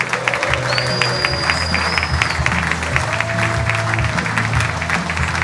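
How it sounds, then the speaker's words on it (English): Sustained applause from a live audience at a rugby podcast show in Wales, dense steady clapping filling the room with a few voices and whistles cutting through. "Let's give them a massive round of applause."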